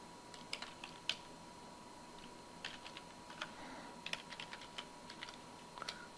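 A name is typed on a computer keyboard: faint, irregular clusters of light key taps with short pauses between, over a quiet steady room hum.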